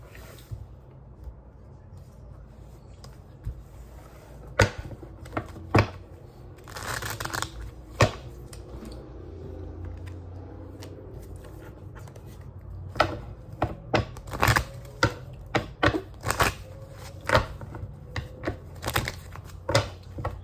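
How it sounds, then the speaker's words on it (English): Tarot cards being shuffled by hand, a run of quick crisp riffling bursts that grow denser and louder toward the end, close up. "Shuffling for the fire signs"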